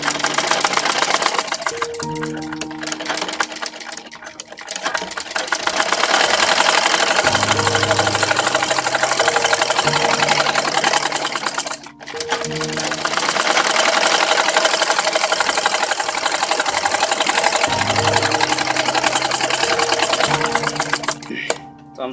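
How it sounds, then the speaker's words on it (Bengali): A sewing machine stitches the seam of a child's skirt in long, loud, continuous bursts of rapid mechanical whirring. It pauses briefly between runs, with a low hum underneath. "রাবারের উপর থেকে নিচের অংশ পর্যন্ত আমরা সেলাই করে নিব।"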